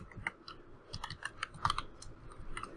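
Quiet, close computer keyboard typing of Python code, a run of light irregular key clicks spread evenly over a few seconds with no voices.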